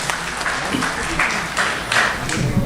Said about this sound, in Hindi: दोस्तों और ज़ोरदार तालियां होनी चाहिए।